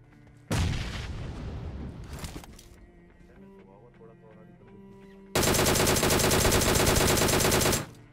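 Gunfire in the battle royale game BGMI arrives in two rapid automatic bursts, a shorter one early and a longer, louder sustained volley later. A quieter stretch between them carries faint game sounds and a voice.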